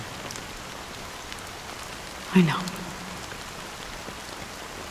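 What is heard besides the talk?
rain falling, from video game Honkai Star Rail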